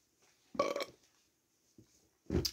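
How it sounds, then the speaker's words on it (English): Two loud, close burps separated by a brief pause, with a faint small sound between them. "I'm having a burping fit, literally."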